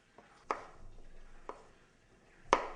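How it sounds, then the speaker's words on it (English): Knife slicing fontina cheese into thin slabs on a board, four distinct soft chopping knocks at uneven intervals, close and clear with quiet pauses between. "I prepare the fontina cheese by slicing it into thin slabs"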